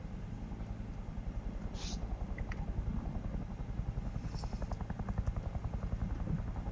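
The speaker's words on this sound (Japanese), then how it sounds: "なんかヘリの音がする。" A steady, rapid chopping thud of helicopter rotors in the video game Knives Out drones throughout at a moderate distance, with a few faint chirps and clicks over it.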